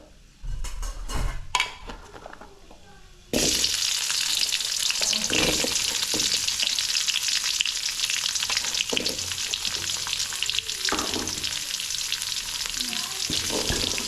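Chopped onions sautéing in hot oil in a pan after whole spices have crackled, with a loud steady sizzle and occasional stirring scrapes after a quieter start, close up and without talk.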